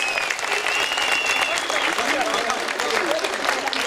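Applause from an audience at a handover ceremony in Tokat, Turkey, a steady, dense wash of many hands clapping that holds at an even level throughout.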